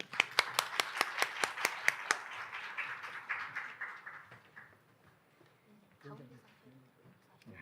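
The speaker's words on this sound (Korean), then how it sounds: "주병기 위원장님을 박수로 모시도록 하겠습니다." An audience at an international symposium claps to welcome the keynote speaker, a run of sharp, evenly spaced claps that fades out before a voice begins speaking.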